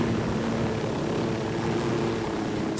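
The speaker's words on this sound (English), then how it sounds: "I hate the stupid helicopter." A helicopter in the video game Narco Road DLC drones with a continuous, loud rotor and engine hum, steady and unbroken throughout, with no voices over it.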